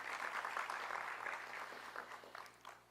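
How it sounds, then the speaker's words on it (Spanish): An audience at an infrastructure congress claps in steady, dense applause that tapers slightly toward the end. "un aplauso"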